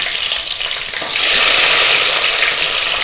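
Small shallots drop into a hot pan for duck curry and set off a loud, close hiss that swells after a second into a full, steady sizzle, with no talking.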